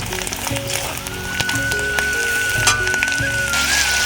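Boiled eggs go into a pan of sizzling, well-fried masala, giving a steady close crackle with a few sharper pops and a faint high whine in the background.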